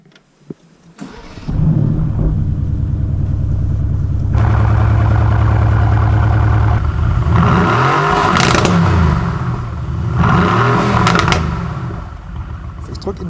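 A Mercedes-AMG GT R engine fires up and its three-outlet exhaust revs several times, rising and falling loudly up close, with a voice talking intermittently over it.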